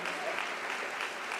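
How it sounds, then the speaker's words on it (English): Brief, faint applause from colleagues and staff at a university teaching and learning conference, a soft steady patter of clapping heard from a distance. "I thought you'd clap for yourselves at least."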